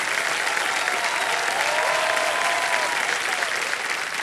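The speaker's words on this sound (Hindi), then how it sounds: "तालियां बजते रहे विजय जी के लिए।" TV game show studio audience on Kaun Banega Crorepati applauding a contestant, a loud, steady wash of many hands clapping throughout, with a faint tone ringing under it.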